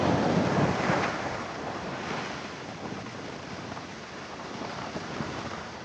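Rough ocean surf crashes continuously on a very windy morning beach, a broad loud roar with wind buffeting the microphone and no voices.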